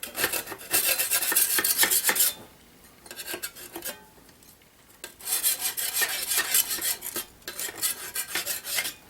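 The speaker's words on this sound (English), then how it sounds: "Big putty knife. I'll just scrape it off." A big putty knife scraping fired clay off a surface: harsh, close rasping strokes in two long bursts with a short scrape between them and brief quiet gaps.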